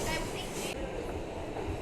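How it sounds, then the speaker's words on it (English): An R211A C local subway train in New York running between stations, a loud steady rumble of wheels and car noise with a brief high screech that cuts off, heard from inside the car. "I'm on the 168th Street bound C local train"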